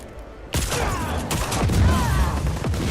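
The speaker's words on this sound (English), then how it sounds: "Oh, beautiful explosions." A sudden loud blast in the video game Just Cause 4 opens into rolling explosions and rapid gunfire, with booming low rumble and sharp repeated cracks continuing to the end.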